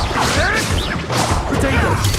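Expelliarmus disarming spell cast in a Hogwarts Legacy duel, loud whooshing swishes and sharp smashing impacts in quick succession, close and forceful, with a voice shouting over them.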